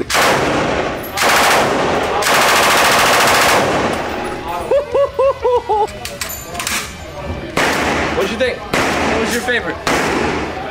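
Rapid bursts of gunfire crack out at close range at a shooting range in the USA, with loud single shots between volleys and brief voices in a pause.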